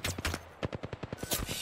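Apex Legends gunfire crackles as a quick run of rapid, evenly spaced shots with a faint background hum and stray game sounds.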